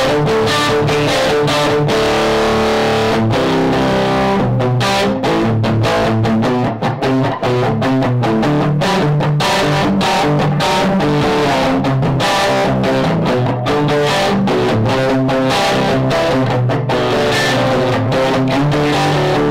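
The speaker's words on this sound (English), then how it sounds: "So here it is with the FET distortion." An electric guitar runs through a Fulltone GT 500 FET distortion pedal, playing a loud, sustained, overdriven riff with chopped rhythmic chords and ringing notes for about twenty seconds, with no talk.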